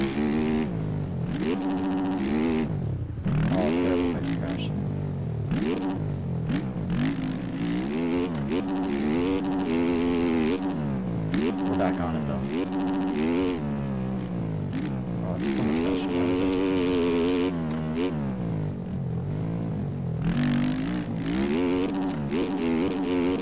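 Several motocross bike engines in the MX Bikes racing game rev and shift nonstop after a crash, a dense, loud buzz of overlapping whining notes that rise and fall for the whole stretch.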